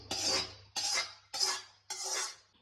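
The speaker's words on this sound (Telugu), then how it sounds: "టమాటా పచ్చడిలోకి తాలింపు కూడా వేసేసుకుందామండి" Tempering being stirred into a tomato pickle, heard as four separate scraping, clattering strokes of a utensil against the pot or bowl, each lasting about half a second with short gaps between them, close and fairly quiet with no talking.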